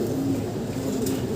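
A racing pigeon coos softly, with a low, steady murmur of cooing over a hum of background noise, faint and close.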